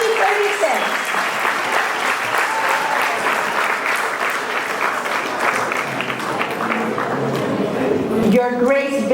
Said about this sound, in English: A warm round of applause to the class of 2036.